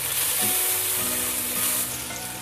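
Minced garlic sizzles hard in hot cooking oil as it is stirred, a loud, continuous close-up frying hiss with faint scraping underneath.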